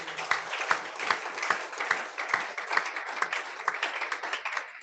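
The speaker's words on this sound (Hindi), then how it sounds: "जोरदार ताली बजाते हैं।" Loud, steady applause from a congregation at a Friday prayer meeting, with dense overlapping claps running the whole time and a few voices faintly mixed in.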